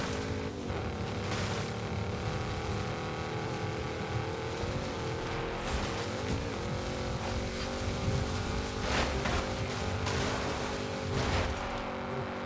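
A racing car engine in Forza Horizon 5 drones steadily throughout, with pitch rising and falling through gear changes during a road race.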